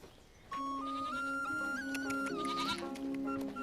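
A goat at a family home bleats in one long, wavering, close cry with a steady tone that stretches over several seconds and rises slightly in pitch, with no talking over it.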